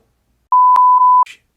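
A single steady electronic censor beep bleeping out a swear word: one clean, loud tone lasting under a second, with a brief clipped fragment of sound right after it and silence before.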